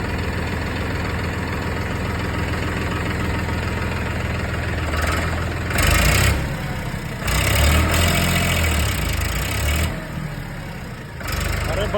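A new 39 Pro Maxx tractor engine idles with a steady, loud, low rumble throughout, rising slightly in a few short surges, while people talk nearby.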